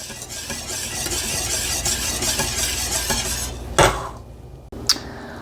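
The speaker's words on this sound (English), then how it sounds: "we need to be stirring constantly while it is bubbling" Steady scraping and stirring of boiling vanilla pudding in a pot with soft bubbling underneath, ending with a couple of sharp clanks of a utensil against metal.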